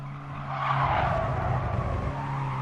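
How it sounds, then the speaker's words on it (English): Tires squeal and skid steadily in Gran Turismo Sport as a Mazda race car brakes into a hairpin, a sustained screech over a low engine drone, rising after a brief lead-in and holding loud to the end. "I just hear tires going off"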